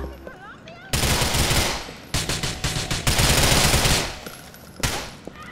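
Gunfire erupts in Grand Theft Auto IV in Liberty City: loud, close bursts of rapid automatic fire, broken by short pauses, then a final burst after a brief lull.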